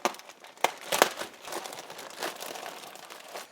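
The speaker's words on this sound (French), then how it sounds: "on va tout de suite déballer ce colis avec le nouveau couteau à déballage" A parcel holding prototype iPhones is cut open with an unboxing knife, giving a run of crisp crinkling and tearing of packaging, with a few sharp snaps near the start, close and fairly loud.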